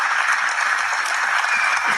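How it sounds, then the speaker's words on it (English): Applause sound effect played on a live stream: a continuous dense crowd clapping, steady and fairly loud throughout the short stretch, with no voices over it. "Maybe rewind my applause."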